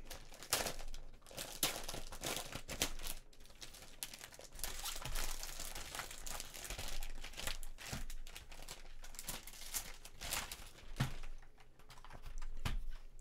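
Packaging for a Razer Huntsman V3 Pro TKL keyboard being unwrapped, with close crinkling and crunching of plastic and cardboard, irregular rustles and a few sharp tears and clicks, fairly quiet and with no talking.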